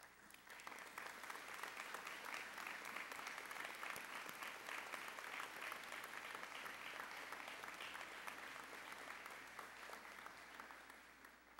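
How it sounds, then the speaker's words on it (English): Faculty at a graduate commencement receive a sustained round of applause from the crowd, with even, dense clapping from a large audience heard at a distance in a big hall. "ask them to stand as we give them a round of applause to thank them for their hard work and dedication"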